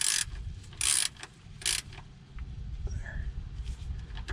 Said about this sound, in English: I am going to torque that oil cap, oil filter cap to spec